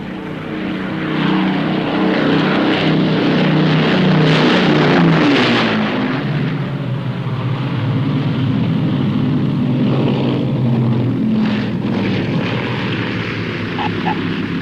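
A propeller plane lining up with the runway on approach drones steadily and loudly throughout, its engine hum continuous and close, with a slight swell in the middle.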